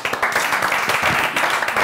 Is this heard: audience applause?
yes